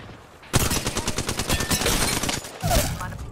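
Rapid automatic gunfire in Apex Legends, a dense burst of shots lasting about two seconds, a brief gap, then another short burst, loud and close with a faint voice underneath.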